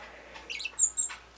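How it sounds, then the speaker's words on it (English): Pet bird squawking in the background indoors: a few brief, shrill chirps and squawks over a quiet room, faint to moderate. "And that is Celia in the back making that noise"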